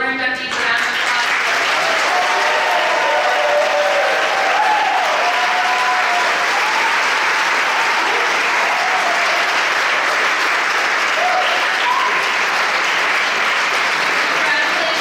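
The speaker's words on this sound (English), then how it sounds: "Please join us in giving all of our inductees a round of applause." Sustained audience applause at a National Honor Society and National Technical Honor Society induction ceremony, a dense, steady wash of many hands clapping that fills the hall for the full stretch with a few faint voices beneath it.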